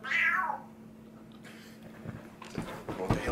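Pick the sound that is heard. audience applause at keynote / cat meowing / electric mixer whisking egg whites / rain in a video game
cat meowing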